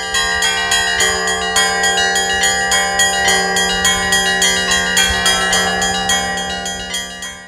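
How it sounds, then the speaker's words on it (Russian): Church bells peal in Berdsk, a large bell's long tolling strokes joined by several smaller bells of different pitches in a dense, steady festive ringing, loud and close with no voices. "Большой колокол издает протяжный благовест, который через несколько секунд подхватывают остальные колокола с разными голосами и тональностью."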